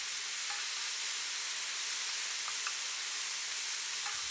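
Mushrooms stir-fried with garlic and sliced green onion give off a steady, bright sizzle and hiss in a hot pan, with a few faint clicks from stirring.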